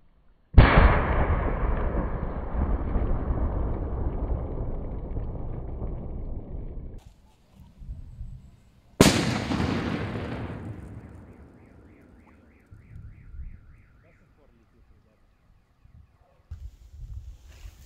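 A mega petard firecracker explodes in an ice hole with two loud, sharp blasts about eight seconds apart, each followed by a long decaying roar and rumble, then quieter scattered thumps and rustling.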